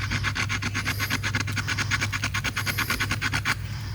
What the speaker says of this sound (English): with the stone blade, you're really just sawing and kind of twisting, and you'll be able to cut your notch pretty